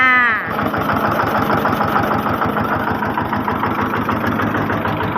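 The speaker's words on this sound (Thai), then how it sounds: "เครื่องแน่นมากๆเลยนะคะ เครื่องยนต์คูเบต้านะคะ RT 140นะคะ" A Kubota RT140 diesel engine on a wooden-bed farm truck starts up and settles into a steady, loud idle with a dense rhythmic chug, close by and continuous.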